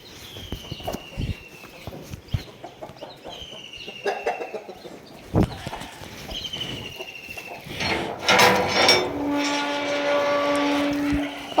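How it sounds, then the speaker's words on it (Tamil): Chickens and small chicks cluck and peep close by in a steady scattered chatter, with a few footsteps, building to a louder sustained cackle near the end. "பாருங்க குஞ்சு."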